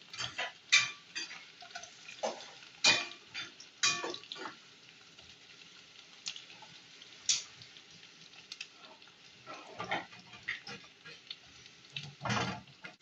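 Onions tossed into a hot pan of oil, frying with scattered stirring scrapes and crackles over a steady soft sizzle, close and moderately loud with no talking.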